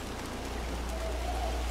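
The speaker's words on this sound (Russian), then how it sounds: "Так, дождик пошел." Rain falls steadily in the video game Montague's Mount, a dense, even hiss of drops on surfaces with a low rumble beneath, continuous and fairly close throughout.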